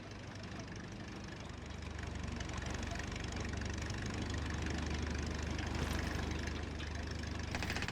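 Car engine running in the game Titan Chaser, a steady low idling rumble with faint knocking vibration, continuous and fairly quiet, swelling slightly partway through with no talking.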